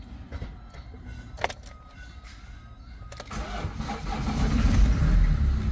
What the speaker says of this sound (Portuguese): dar partida aqui no motor dessa bruta agora